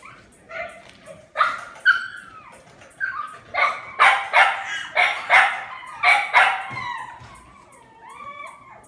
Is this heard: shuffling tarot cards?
no